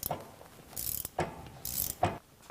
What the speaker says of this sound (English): Start with a breaker bar. Then you can hand crank these off.